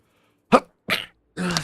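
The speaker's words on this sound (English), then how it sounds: "Oh, I'm gonna sneeze." A person sneezes during a Wuthering Waves play session: three short bursts in quick succession, the first a sharp sneeze, then two rougher breathy follow-ups, close and loud against silence.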